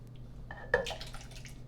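Canned peeled whole tomatoes and their juice poured into a pot for gumbo, giving a brief soft splash and liquid glug close by, with faint drips after.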